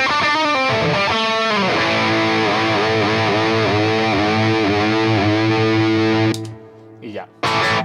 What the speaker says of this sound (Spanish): Luego aquí tengo una distorsión.